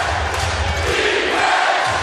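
Dense roar of an NBA crowd at a Toronto arena during a Chicago Bulls game, a steady loud wash of cheering voices with no clear breaks, filling the whole stretch.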